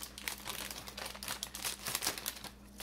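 Snack packaging crinkles and rustles close up as it is cut open with scissors, a steady run of crisp plastic crackling and snips with no talk.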